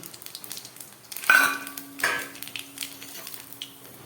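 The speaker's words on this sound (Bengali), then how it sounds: "এই গরম তেলের মধ্যে আমি দিয়ে দিচ্ছি কালো জিরে ফোড়ন।" Black cumin seeds tempering in hot oil for a katla fish and eggplant curry, a sudden sizzle and crackle as they hit the pan, followed by a quieter spattering hiss with a second surge.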